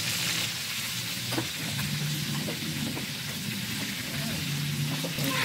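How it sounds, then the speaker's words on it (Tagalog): Chicken broth boils in a pot with a dense, steady bubbling hiss and crackle, close and continuous, under faint background noise. "kumukulo na rin yung sabaw natin"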